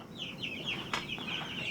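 Backyard chickens cluck in quick, repeated clucks over a low background hum, fairly close, with one sharper squawk midway and no talking.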